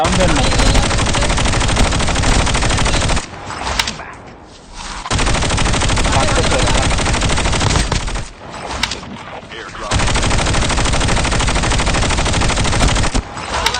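Automatic gunfire in a battle royale video game, loud sustained bursts of rapid shots with two brief lulls between them, while players talk over the shooting.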